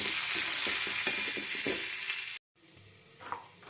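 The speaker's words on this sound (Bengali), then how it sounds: "সামান্য নুন হলুদ দিয়ে দিলাম, ভালো করে নেড়ে নেব।" Indian gooseberries tossed with salt and turmeric in a hot pan give a scraping stir with a soft sizzle. Several spoon strokes come close, then a brief cut of silence, and quieter frying continues.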